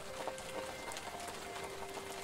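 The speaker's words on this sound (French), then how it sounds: "Il pleut." Rain falls in a steady hiss with scattered soft patters of drops on surfaces, fairly faint and even throughout, with no voices.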